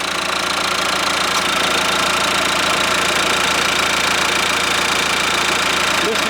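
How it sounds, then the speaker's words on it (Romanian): A Dacia Duster Blue dCi diesel engine idles with a steady, rattling clatter and constant low rumble, heard up close without interruption. "Cam așa sună motorul."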